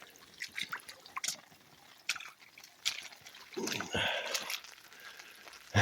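Rainwater running and dripping near a culvert as the surrounding area fills, with intermittent trickles and splashes close by and a louder gush of water around the middle.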